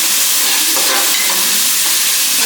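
Food frying in a hot pan, a loud continuous hiss and sizzle filling the whole short stretch, close up and steady with no talking.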